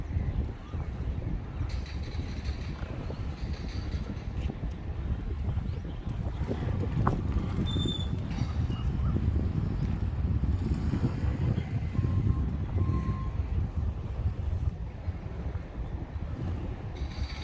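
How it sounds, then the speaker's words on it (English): Steady low rumbling wind buffets the microphone on a Bangkok street between Nana and Asok around 8 o'clock, a constant blustery roar with faint distant sounds underneath. "You can probably feel on here already that it's a bit windy."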